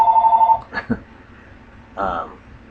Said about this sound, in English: Well, I'm not answering the phone. It can ring all day.